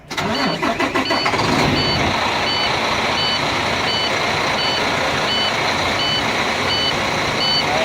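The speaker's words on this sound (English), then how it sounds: "it's beeping at me, let me know that there's no air in the tanks" A truck engine cranks and starts, then idles loudly while a low air pressure warning tone beeps in a steady repeating pattern over it.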